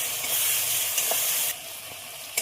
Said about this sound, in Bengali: আদা জিরে বাটা দিয়ে খুব ভালোভাবে নেড়ে দেবো